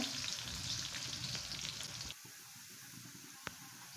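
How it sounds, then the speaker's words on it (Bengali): Chopped onions frying in a pan until brown, a dense close sizzle that runs steadily for about two seconds and then drops to a quieter, thinner hiss, with one brief knock near the end and no talk. "এখন আমি পেঁয়াজটাকে সুন্দর করে লাল লাল করে ভেজে নেব যতক্ষণ না ব্রাউন কালার আসতেছে।"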